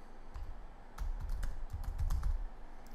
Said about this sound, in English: If we were to go in and just start typing